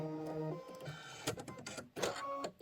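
A home embroidery machine stitches a yellow wing pattern fill on a quilted pillow block, with a steady mechanical whir and rapid clatter interrupted by brief changes in pace.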